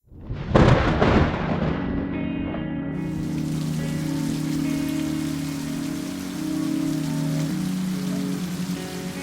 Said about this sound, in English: So that rain I saw yesterday in the park finally decided to show itself, and boy, did it deliver.